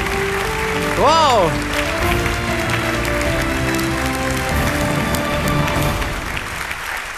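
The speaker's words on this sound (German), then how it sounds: "Dein Applaus." An award gala audience at the Goldene Henne 2023 applauds in a steady wash of clapping while presenters talk and exclaim over it.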